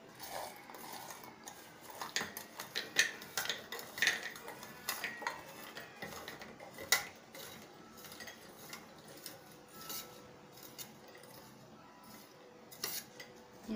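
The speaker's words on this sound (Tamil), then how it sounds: "இப்போ இந்த கலந்து வச்சுருந்த பெப்பர் முந்திரியை ஒரு பவுலில் மாற்றிக்கலாம்." Pepper-seasoned cashews are tipped and scraped from a pan into a bowl in a kitchen, giving faint, scattered clinks and rattling taps of nuts and utensils against metal and dishware.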